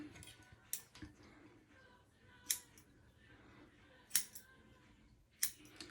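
Scissors snipping hair on a men's hair unit, four or five sharp close-up cuts spaced irregularly, with faint handling rustle between them and no talking.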